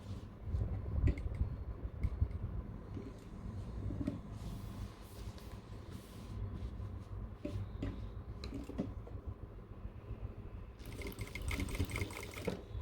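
A sewing machine stitching cargo pants runs in a steady mechanical whir, close and moderately loud, with short stops and restarts as the needle stays down and the fabric is turned.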